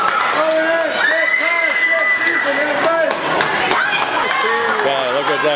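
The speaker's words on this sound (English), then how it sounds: "Boy, what a crowd." Crowd noise from spectators at a girls' high school swimming meet, a loud continuous roar of voices and cheers with whistling tones, under a commentator's voice throughout.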